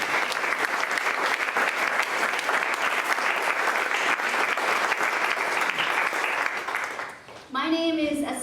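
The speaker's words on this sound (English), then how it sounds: "Please give them a round of applause." Audience applause at a community economic event in Hartford, Vermont, a dense, steady clatter of many hands lasting about seven seconds before dipping, after which a voice begins speaking.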